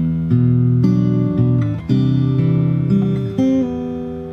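Fingerstyle acoustic guitar plays the opening bar of the second verse of a song, with low bass notes under plucked chord tones ringing in a steady, unaccompanied phrase.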